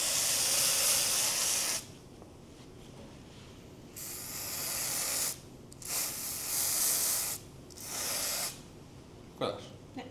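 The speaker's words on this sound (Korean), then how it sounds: "다 뿌렸던 스프레이를 씻어내는 거예요." Water spray hisses loudly in repeated bursts, rinsing the scalp after a hair transplant, with pauses of quiet room tone between sprays and a brief splash near the end.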